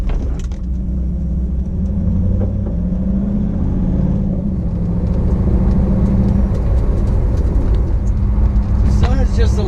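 A Chevrolet LT1 V8 with a slight misfire runs steadily in a loud, close, low rumble, its idle carrying a faint uneven beat throughout.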